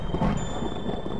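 Low rolling thunder with rain in the video game The Happyhills Homicide, a steady dense rumble throughout, fairly loud with no talk.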